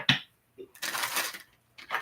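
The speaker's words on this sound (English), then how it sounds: "Okay, last shuffle." Tarot cards being shuffled in short bursts of riffling and flicking, close and quiet, with brief pauses between the handfuls.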